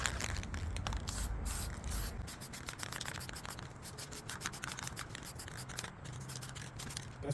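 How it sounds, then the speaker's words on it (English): A can of Rust-Oleum ultra high heat semi-gloss spray paint hisses in repeated short bursts at close range onto a Volkswagen Golf Mk1 engine, with small scraping and handling noises between sprays. "spray it with Rust-Oleum ultra high heat semi gloss"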